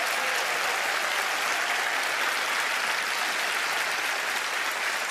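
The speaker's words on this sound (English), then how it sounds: "Please give them a round of applause." Audience applause at a magic show, a full, continuous roar of clapping from a large crowd, loud and unbroken from start to finish with no speech.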